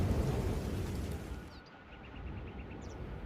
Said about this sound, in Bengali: ঠিক তখনই আকাশের তীব্র শব্দে একটি বাজ পড়ল